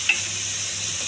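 Onion pieces frying in a little oil in a pan, a brief steady sizzle with a light stirring scrape near the start.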